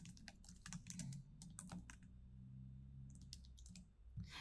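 Typing on a computer keyboard while entering a value in Power BI, quiet close clicks in quick uneven bursts with short pauses between them, alone with no voice.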